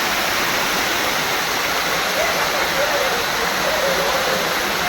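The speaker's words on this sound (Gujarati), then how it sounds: "એકદમ નિર્મળ વહેતું, ખળખળ વહેતું પાણી, સુંદર અને સ્વચ્છ પાણી" Rushing water roars in a constant broad hiss, a close, full flow like a stream tumbling over rocks after rain on Osam hill, unbroken throughout.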